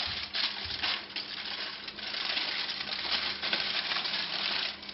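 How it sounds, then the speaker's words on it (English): Aluminum foil being crinkled and folded around a ginger-garlic-chili pork roast, a steady dense crackle of close crumpling with brief louder rustles throughout. "Now, I'm not really perfect at wrapping things into aluminum foil"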